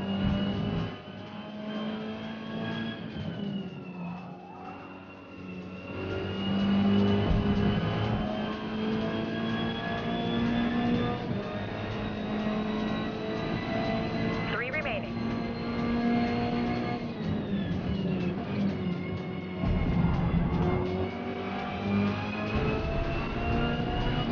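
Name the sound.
race car engines in Forza racing video game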